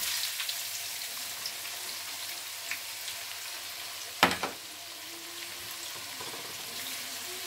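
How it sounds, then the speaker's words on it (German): Chopped onions sizzle in hot oil in a pan for a Pakistani-style chickpea rice dish, a steady soft frying hiss with one brief louder clatter midway. "So, Zwiebel so lange also braten, bis die so Farbe ein bisschen ändern, so ein bisschen bräunlich werden."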